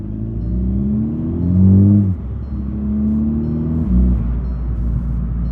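A Ford Mustang 5.0 engine idles, then revs up twice in short bursts, rising in pitch and dropping back each time. It is close and fairly loud.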